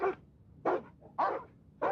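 Alsatian dogs bark four times in an even rhythm, each loud, close bark separated by a short pause.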